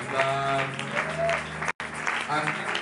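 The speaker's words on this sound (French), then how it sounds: "Et tu peux pousser le cri de joie. Gloire au Seigneur. Acclame très fort, acclame." A church congregation applauds and cheers in acclamation during a prophetic sermon, a dense wash of clapping and voices with a brief cut partway through.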